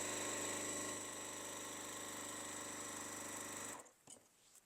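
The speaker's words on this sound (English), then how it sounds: "So now I'm just going to sew all the way around all 4 sides." A sewing machine stitches steadily around all four sides of a quilt block, a continuous close mechanical hum with rapid regular needle rhythm, stopping near the end with a few small clicks.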